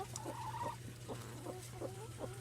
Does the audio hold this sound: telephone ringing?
no